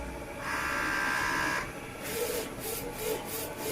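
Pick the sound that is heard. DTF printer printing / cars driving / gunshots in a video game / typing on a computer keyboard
DTF printer printing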